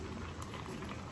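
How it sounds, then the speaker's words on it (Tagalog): Water bubbles at a rolling boil in a pot for cooking squid, a dense, continuous burble with no voices. "Ayan, kumukulo na ang ating tubig sa puset."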